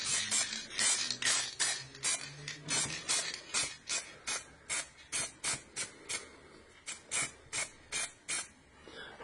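Spray paint can used to make realistic flames for dioramas and miniatures, firing about twenty short, sharp hissing bursts in a steady rhythm, loud and close with brief pauses between them.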